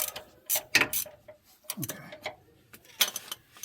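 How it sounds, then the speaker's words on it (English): A hand ratchet works on a tight front lower engine mount bolt of a 2009 GMC, giving sharp, irregular clicks and metallic snaps up close, with short pauses between strokes. "Now I'm getting the front lower bolt, and I'm doing it with a hand ratchet."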